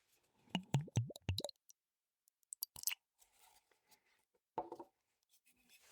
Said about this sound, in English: I'm going to crack this bottle open right now and get a pour.